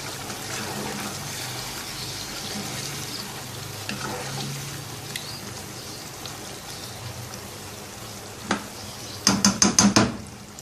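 Water poured into a pan of chicken mirchi curry with onions and green chilies, a soft steady sizzle and stir that ends in a few sharp clatters of a spoon against the pot.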